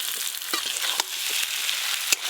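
Fried snake gourd and potato pieces being stirred into frying poppy seed paste: bright crackling sizzle with a few sharp spatula knocks and scrapes, close and without talk.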